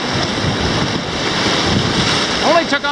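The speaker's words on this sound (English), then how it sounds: "Only took on one big splash." A canoe running river rapids on the Moira River's Lost Channel section, with rushing water and spray over steady wind noise and a splash surging near the end.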